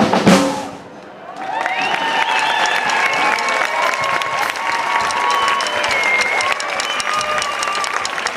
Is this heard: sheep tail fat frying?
no